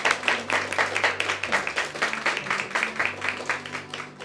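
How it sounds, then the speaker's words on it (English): Guests at a beachside wedding ceremony in Port Aransas, Texas, clap for the couple in a patchy round of applause with a loose, pulsing rhythm, over a steady low hum. "give a good round of applause to the couple for putting it together"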